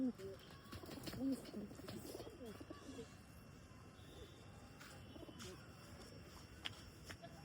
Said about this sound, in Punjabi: ਦੇਖੋ ਬਈ ਕਿਵੇਂ ਲੜਦੇ ਕਬੂਤਰ ਆਪਸ ਵਿੱਚ